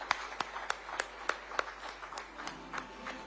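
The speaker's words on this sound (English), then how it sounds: "A huge round of applause for the one and only Mr. Dilip Sanghavi." At an awards ceremony, the audience claps faintly and sparsely, with about a dozen sharp, evenly spaced claps over three seconds and no dense roar of applause.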